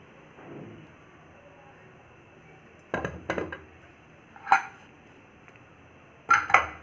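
A cooled pressure cooker of rice is opened after three whistles: a few sharp metallic clanks and clicks of the lid in short bursts, separated by quiet stretches.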